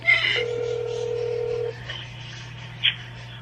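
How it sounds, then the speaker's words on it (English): A phone call rings out through a handset, with a sustained electronic tone followed by a short beep and a faint hum beneath, close and clear with no speech. "Oh, it's ringing. It's ringing."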